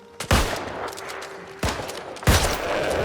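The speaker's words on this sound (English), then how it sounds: "At least the bow and gun sounds good." Three sharp gunshots ring out in the fantasy video game New World, spaced irregularly with echoing tails between them, fairly loud with no talk.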